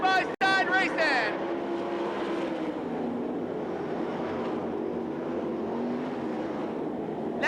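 Dirt track race cars at Knoxville Raceway drone steadily as a pack, a loud continuous engine roar from a distance, beneath a commentator's voice.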